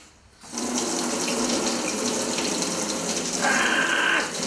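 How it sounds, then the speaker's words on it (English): Water gushing steadily from bath taps into a tub or sink basin, a loud, close, continuous rush that starts abruptly after a quiet moment and swells slightly near the end. "If you've got two taps in your bath or your sink basin,"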